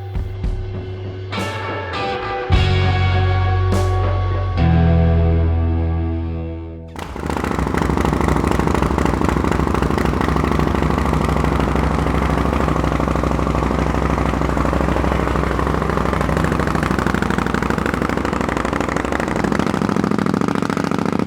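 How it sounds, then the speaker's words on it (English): Custom Indian Scout with a water-cooled American twin engine in a chopper chassis, heard first through a few blips and revs, then settling into a loud, steady, close idle with a continuous throbbing rumble. "this is a water-cooled American twin by Indian Motorcycles in a beautiful chopper chassis"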